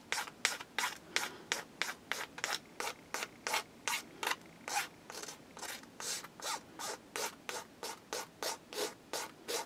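Sawdust pressed into wet paint on a weathered scale model, heard as a close, even series of short scratchy dabs repeating quickly and regularly, with no voices.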